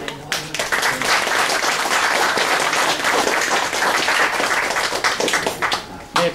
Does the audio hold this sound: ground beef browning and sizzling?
no